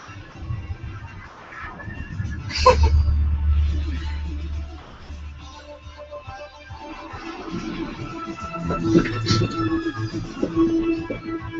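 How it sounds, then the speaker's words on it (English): A horse neighs within the 1990s Knightmare TV theme tune, heard as a whinny around the midpoint of ominous synthesized music with a low drone, and again near the end. "You hear him neigh in a minute."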